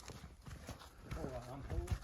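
Draft mare led out at a farm, her hooves clip-clopping as she walks on a hard surface, with a few clear steps near the end, while people talk in the background.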